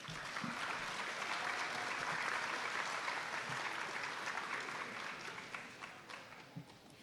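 Large audience applauding inductees at an NSCS honor society induction ceremony, a steady dense wash of clapping that holds for several seconds and thins slightly toward the end.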